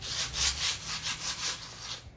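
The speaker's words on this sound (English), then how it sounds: "Alright guys, I picked up some random sandpaper." 120 grit sandpaper scrubbed across the bead edge of a tractor tire to remove buildup, producing about eight quick rhythmic rasping strokes, close and fairly loud, ending abruptly.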